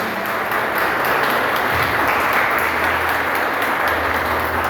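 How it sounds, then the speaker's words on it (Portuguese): A church congregation at a family service applauds together, a dense, loud and steady wash of clapping that fills the room without pause. "Você pode aplaudir a Deus por isso?"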